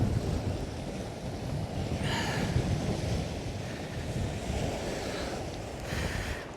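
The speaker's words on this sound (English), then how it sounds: "Yeah, it's an icy wind." Icy, biting-cold wind blows outdoors and buffets the microphone with a loud, continuous roaring rush that swells and eases in gusts, with no voices over it.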